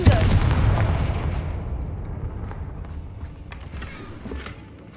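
A Confringo fire spell blasts in the Hogwarts Legacy video game, a loud booming burst that decays into a rumbling tail with scattered crackles.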